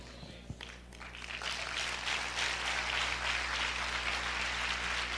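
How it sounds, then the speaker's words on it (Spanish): A church congregation breaks into applause after a sermon. The clapping starts thin, then swells into a dense, steady wash of many hands that carries on to the end. "Vamos a aplaudir fuerte al Rey."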